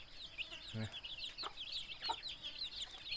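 Chickens cluck in a coop where ducks are also kept, short clucks and chirps repeating through the moment with a brief lower squawk near the start; farm background and faint voices around.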